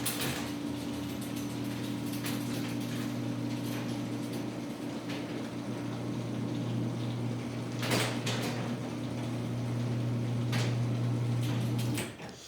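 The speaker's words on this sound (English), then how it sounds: "we'll open the garage door over here" A garage door opener, said to have become quieter than before, raising a garage door with a steady motor hum and mechanical drone for about twelve seconds, marked by a couple of clanks, then stopping abruptly.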